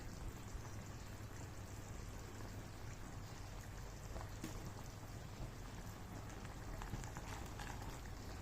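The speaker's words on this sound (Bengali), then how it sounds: "পানিতে বলক চলে আসছে" Water with beans boils in a pot, a steady bubbling hiss that stays constant and quiet throughout with no talk.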